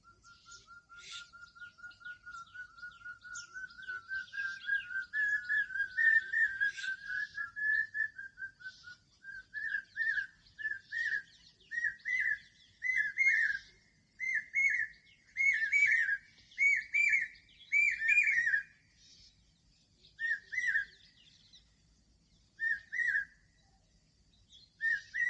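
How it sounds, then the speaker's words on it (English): Two birds call in a quiet outdoor setting, one farther off: a rising series of clear whistled notes gives way to repeated short whistled phrases with pauses between them, all fairly faint. "There are two birds here. One is calling from a farther end. Listen to these calls."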